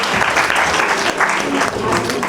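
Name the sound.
audience clapping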